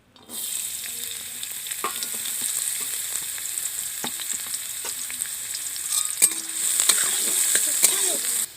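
Chopped onions fry in hot oil in a wok, giving a bright, steady, loud hiss that swells slightly near the end, with occasional scrapes and clinks of a spatula, close up, no talking.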